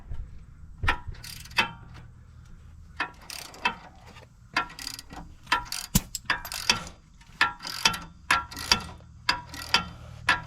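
A hand ratchet fitted with an 18mm socket clicks in repeated quick bursts while pulling a bolt out, close and crisp, with pauses between strokes.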